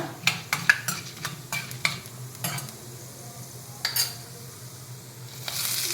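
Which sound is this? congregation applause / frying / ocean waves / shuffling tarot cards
frying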